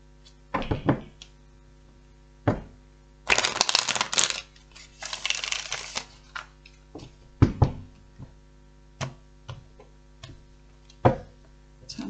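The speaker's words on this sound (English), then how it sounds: "so just give this another little shuffle" A tarot card deck is shuffled by hand up close in a quiet room: irregular taps and knocks of cards against a surface, with a few longer riffling swishes in between.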